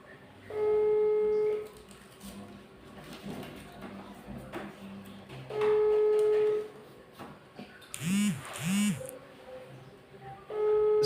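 An outgoing phone call rings unanswered, producing a ringback tone: three long, steady beeps about five seconds apart over low room noise, with a brief warbling electronic chirp between the second and third.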